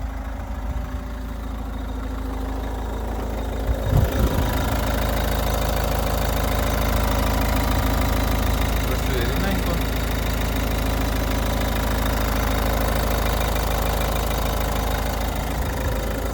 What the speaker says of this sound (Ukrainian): автомобіль працює рівненько